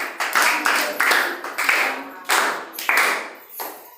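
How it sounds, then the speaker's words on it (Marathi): Students in a classroom clap their hands in several short bursts of applause at close range, fading out toward the end. "टाळ्या वाजवा।"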